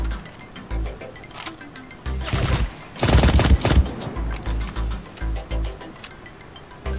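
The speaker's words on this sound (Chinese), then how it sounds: "我听到枪声" Gunfire crackles in the mobile battle royale game 量子特攻, with scattered shots building to a dense, loud burst in the middle before thinning into intermittent pops.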